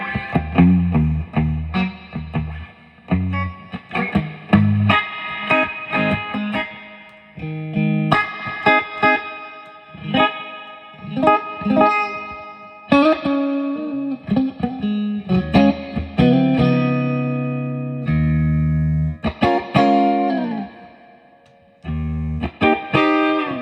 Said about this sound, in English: Very ambient reverb, almost more like a plate than a spring.